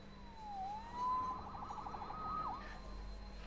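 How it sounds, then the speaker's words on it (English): Police siren wailing in the Spider-Man PS4 video game, a rising and falling tone moving at moderate distance over a steady hum of background game ambience. "Saved by the siren."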